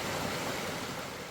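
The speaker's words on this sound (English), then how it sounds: "Nice little creek, a little water resupply." A small creek in the woods flows steadily, a continuous broadband rush of water that stays close and even throughout, with no voices.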